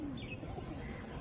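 Pigeons cooing nearby, a soft low coo sliding down at the start over a faint, steady background hum.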